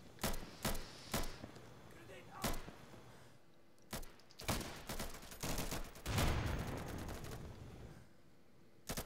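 Gunfire in the video game Insurgency, sharp loud single shots and short bursts cracking at irregular intervals, with a denser volley near the end and a voice talking faintly between shots.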